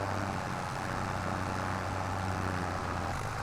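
A small 100-horsepower John Deere tractor labours uphill in low gear in Farming Simulator 2025, its engine a steady, heavy drone with a constant low rumble and no pauses.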